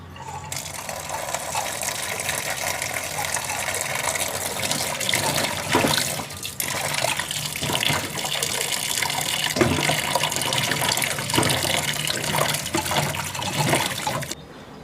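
Tap water gushes steadily over cut potatoes being rinsed for homemade french fries, a loud continuous splash with occasional sloshing bumps as the potatoes are stirred.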